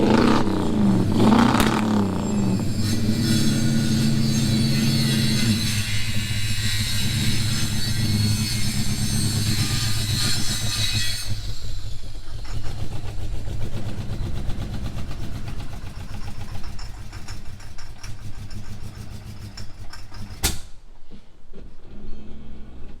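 A tuned-up car engine revs hard and then settles into a rough idle, loud and close throughout, with the revving dropping away and the engine cutting out near the end.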